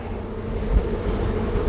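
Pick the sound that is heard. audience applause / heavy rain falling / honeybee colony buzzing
honeybee colony buzzing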